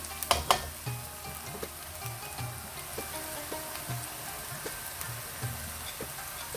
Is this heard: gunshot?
no